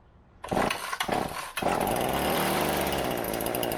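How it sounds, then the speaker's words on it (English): A Redmax engine is pull-started by hand: two sharp, loud cord pulls with brief sputters come first, then the engine catches and runs steadily and close up until the end. "You put your hand on the pull cord here and give it a couple pulls, usually 2 or 3, and then it'll start for you."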